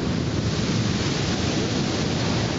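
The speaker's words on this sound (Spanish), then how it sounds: "Las olas fueron amenazantes." Strong, threatening ocean waves pound the beach at El Pimental on the Salvadoran coast, a dense, continuous roar of surf with wind noise on the microphone and no voices.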